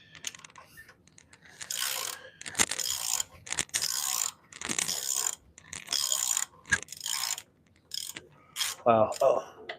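Wrench ratcheting on a bolt in a home garage, with repeated bursts of rapid clicking separated by short pauses, close and fairly loud with no talking.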